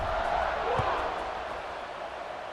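Stadium crowd roaring in EA Sports College Football 26 ahead of a kickoff, a broad continuous din of cheering with a low thump near the start, steady throughout.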